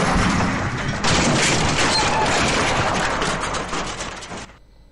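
A car slamming into a person as a sound effect: a loud, dense crash of impact noise bursts in suddenly and roars on for about three and a half seconds before cutting off abruptly, with no voices.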